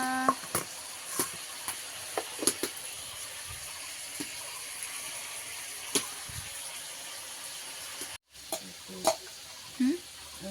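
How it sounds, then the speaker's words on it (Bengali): Banana, apple and pointed gourd slices frying in a home kitchen, a low continuous sizzle broken by intermittent clicks and knocks of a utensil against the pan, with a brief gap and a few thuds near the end. "এদিকে কলা আপেল পটল ভাজা দিয়েছি"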